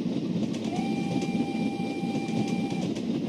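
A post train rolls along steel rails with a steady rumbling clatter and a thin sustained whistle-like tone, close and continuous, with no voices.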